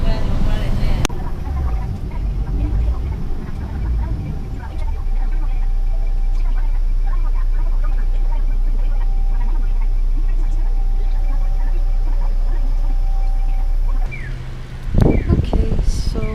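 A city bus engine drones steadily and loudly from inside the vehicle, a constant low hum that swells midway and drops near the end, with a few faint rattles and no clear speech.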